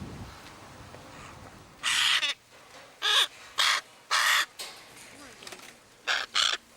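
A parrot kept in poor condition lets out five or six loud, harsh squawks, each brief and close, separated by short pauses.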